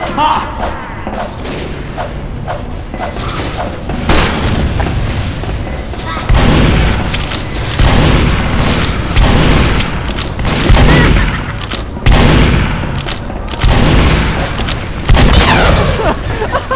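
Gunfire and explosions from Team Fortress 2 in repeated loud bursts and booms, with heavy thuds recurring every couple of seconds and a dense, busy combat mix throughout.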